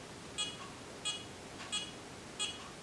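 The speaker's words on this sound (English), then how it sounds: "You hold it down until it finishes beeping." Four short, high electronic beeps from a TRIA Beauty laser hair removal device repeat at a steady pace over a quiet background hiss.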